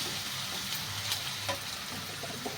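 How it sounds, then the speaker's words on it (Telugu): Ginger-garlic paste frying in oil for gongura chicken, a steady soft sizzle with faint stirring scrapes in a pan, close and continuous with no talking. "పచ్చివాసన పోయేంత వరకు ఒక 2 నిమిషాలు వేయించుకుందామండి."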